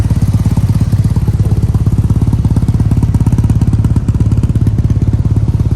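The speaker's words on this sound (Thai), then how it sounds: "เดี๋ยวลองสตาร์ทให้ฟังเสียงเครื่องยนต์กันนะครับ" A 2009 Yamaha TMAX 500 scooter fitted with a Termignoni exhaust runs steadily close by, its loud, even engine pulse thrumming without a break and with no one speaking over it.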